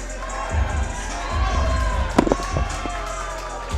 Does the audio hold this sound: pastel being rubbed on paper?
no